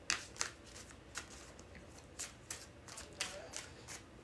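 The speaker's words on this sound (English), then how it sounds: "we'll get 3 more shuffles" Tarot cards being shuffled in a quiet room, a series of crisp riffling bursts repeating about every half second, close and fairly soft with no talking.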